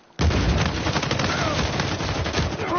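AK rifle gunfire in an Uncharted 4 multiplayer match, a dense, continuous barrage of rapid shots that starts abruptly and keeps rattling loudly to the end, with little talking over it.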